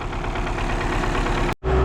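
A tractor drags a heavy disc harrow about 13 cm deep through dry field soil, giving a loud, steady, close engine drone under load that drops out for a moment near the end.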